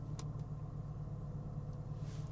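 A Mercedes SL R230 engine idles in a steady low rumble, close and constant, with no talk over it.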